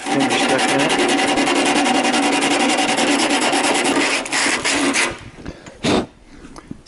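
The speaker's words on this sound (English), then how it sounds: "now I'm just kind of taking some 80 grit, kind of rolled it up a little bit" Rhythmic rasping strokes of 80 grit sandpaper, rolled up around a finger, scraping body filler on the edges of Supra doors; loud, steady back-and-forth rubbing for about five seconds, then a few sparse, quieter strokes.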